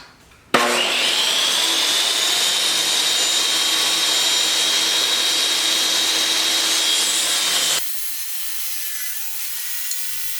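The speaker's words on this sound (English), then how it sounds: "it'll be easy and safe to put it through the table saw." A table saw cuts wooden knife handle scales: a sudden loud whining rip through the wood held steady for about seven seconds, then the cut ends and the blade spins on more quietly with a lower hum.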